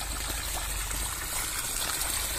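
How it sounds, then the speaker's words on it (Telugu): Irrigation water flows into a farm field in a steady, close rushing gurgle that stays constant throughout, with no talk over it. "ఇప్పుడే మనకు వాటర్ అనేది పెట్టడం జరిగింది"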